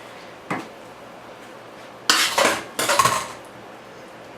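A spoon knocks and scrapes against a bowl to clear off sour cream: one light tap, then two louder bursts of clinking metal on dish, close and with no speech.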